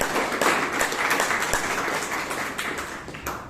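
An audience at a Toastmasters meeting in Bangalore claps together in a steady round of applause, dense and sustained at moderate loudness with individual claps blending into a continuous patter.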